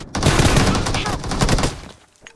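Rapid gunfire in a shooting video game, a dense burst of overlapping shots for about a second and a half, close and loud, then fading out, with a voice heard briefly.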